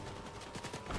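An enemy player's gun fires in rapid repeated Fortnite shots, a faint, fast rattle of evenly spaced bursts over a steady game-noise bed.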